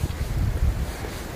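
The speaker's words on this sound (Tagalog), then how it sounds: "Hangin pa." Gusty wind buffets the microphone outdoors during a heavy snowstorm in Holland, a steady low rumble with no one speaking.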